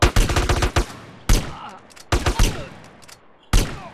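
Gunfire from the video game GTA San Andreas comes as rapid automatic bursts: a long rattling volley at the start, then several shorter sharp bursts separated by brief gaps, loud and close.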